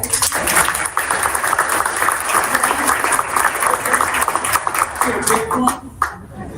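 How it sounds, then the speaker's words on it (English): An audience at a school board of education meeting applauds a recognized guest, with loud, sustained clapping across the room that fades out near the end. "so he deserves a few applause"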